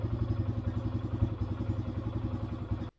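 A 2013 Kawasaki KLX140L dirt bike engine idles close by after a clutch replacement, a steady rapid low-pitched chugging that cuts off abruptly at the end.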